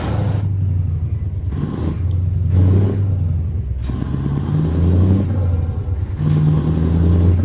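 V8 truck engine in Euro Truck Simulator 2, a deep loud rumbling drone that rises and falls through repeated revs and gear changes, close and continuous.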